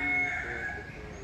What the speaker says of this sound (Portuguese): Olha os galos brincando lá no fundo.